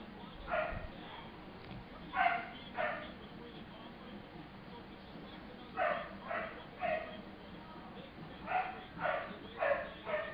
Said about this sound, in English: Sorry about this, if there's barking.